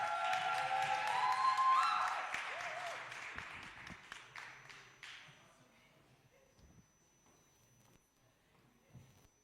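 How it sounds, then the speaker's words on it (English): An audience applauds a contestant at a regional business pitch competition, a warm burst of clapping that builds for about two seconds. It then tapers into scattered claps and footsteps, with quiet room noise after. "A warm round of applause"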